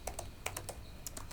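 Quiet keystrokes on a computer keyboard while coding a PHP and MySQL e-commerce site, about ten light, irregular taps in quick succession over a faint background hiss, with no talk.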